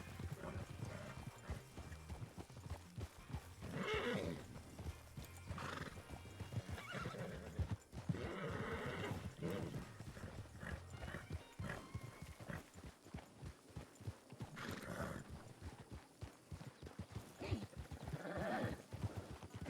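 In the Red Dead Redemption 2 (RedM) roleplay game, a horse whinnies several times over the rhythmic clip-clop of its hooves, with repeated neighs rising above steady game ambience.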